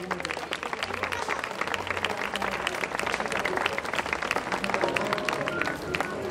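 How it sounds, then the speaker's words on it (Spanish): Audience applause at a horse riding exhibition in a castle moat during a town fair in Marcilla, steady dense clapping that holds through the whole stretch with crowd noise underneath. "Algo, un ejercicio muy, muy complicado y para el que les voy a pedir un fuerte aplauso"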